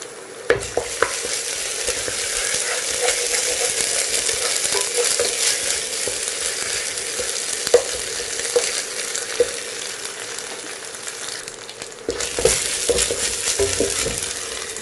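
Ginger garlic paste frying in oil for Bhai-style mutton biryani, a continuous dense sizzle and crackle with scattered pops and stirring scrapes, close and steady with no talk.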